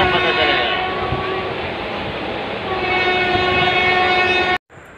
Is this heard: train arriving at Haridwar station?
yes